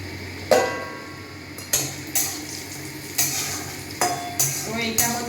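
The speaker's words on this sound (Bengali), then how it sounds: "তো এটা হচ্ছে কাজু কিচমিচ ভেজে নিচ্ছি।" Cashews and raisins fry in hot oil, a steady sizzle broken by sharp clanks of a spoon stirring against the pan at irregular intervals.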